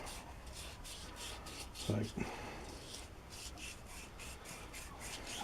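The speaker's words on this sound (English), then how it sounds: "give it a bit of a polish" Rust is polished away inside an old hand drill under restoration, a steady close rasping rub in repeated strokes, with a brief spoken word partway through.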